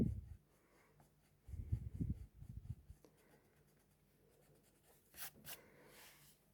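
A pencil scratches and rubs on paper while drawing a frill-necked lizard, with lines drawn and then partly erased. Soft bursts of scratching come and go with quiet gaps between them, close and faint.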